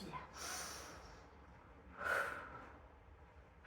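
Audible breaths during a Pilates session: two distinct, fairly close airy inhalations or snort-like breaths, separated by quieter gaps.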